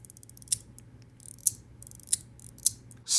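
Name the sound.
Leap by Proxy EDC haptic ball hopping and clicking into place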